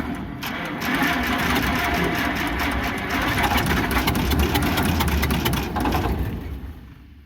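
An antique combine engine, long forgotten and dusty, runs with a steady, rough mechanical drone and clatter, loud and continuous, before the sound fades out near the end as it stalls.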